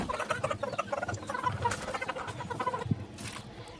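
Small-farm chickens cluck and murmur while feeding, a busy cluster of short close calls with pecking and rustling throughout.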